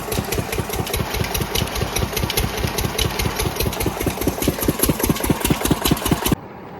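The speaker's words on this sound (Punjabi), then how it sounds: "ਇੰਜਣ ਚੱਲਦੇ ਆ ਕਿੰਨੀ ਸੋਹਣੀ ਆਵਾਜ਼ ਆਈ ਜਾਂਦੀ" A single-cylinder irrigation pump engine chugs steadily beside paddy fields with a fast, even thumping rhythm, loud and close, then cuts off abruptly at the end.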